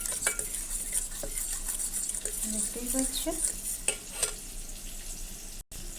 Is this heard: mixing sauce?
yes